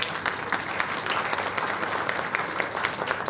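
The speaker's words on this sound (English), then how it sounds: "just give him a big hand of applause." An audience at an AMUOBA Lucknow day event claps for an honoured guest, a dense and steady burst of applause filling the room at close range for a few seconds.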